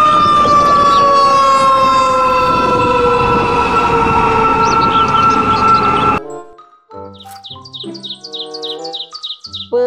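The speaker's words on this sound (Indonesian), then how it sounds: "Mobil truk pemadam kebakaran." A toy fire truck blares a loud, continuous electronic siren with steady wailing tones for about six seconds, then stops suddenly, followed by quieter chirping electronic tones.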